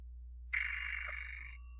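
A telephone rings once with a bright electronic trill lasting about a second over a low steady hum, heard alone in a quiet classroom setting.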